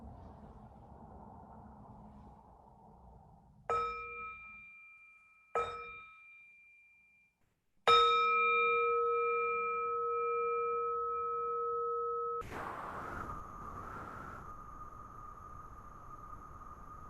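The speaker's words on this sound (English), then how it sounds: "Let's enjoy a sound of the bell." A mindfulness bell is struck several times in a quiet room, each strike ringing with a clear sustained tone; two short strikes, then a longer resonant one, then a final louder strike that hums on as it fades.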